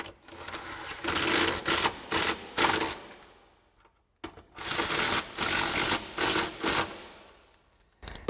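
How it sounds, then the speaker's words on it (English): A 13mm socket on a ratchet tightens running board bracket nuts on a 2022-2023 Toyota Tundra, giving fast clicking bursts in two runs separated by a brief pause, close and fairly quiet. "Now we can grab a 13mm socket and tighten these up."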